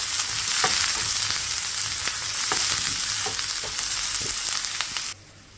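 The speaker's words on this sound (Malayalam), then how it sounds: "സവാള പൊടിയായി അരിഞ്ഞത് ഇട്ട് കൊടുക്കുക ഞാനൊരു മീഡിയം സൈസിലുള്ള സവാളയാണ് എടുത്തിട്ടുള്ളത് നല്ലപോലെ വാട്ടിക്കൊടുക്കുക" A medium-sized onion, finely chopped, sautés in a hot pan with a steady, close sizzle and a few light clicks of stirring, then cuts off abruptly near the end.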